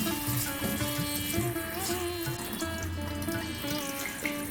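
Spinach leaves rinsed under a running kitchen tap, the steady stream splashing into a sink basin continuously and fairly close, with no voices over it.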